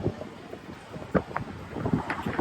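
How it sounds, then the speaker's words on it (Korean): Strong wind buffets the microphone outdoors in New York City, rumbling gusts with a few sharper blasts, no talking. "바람이 꽤 많이 불어."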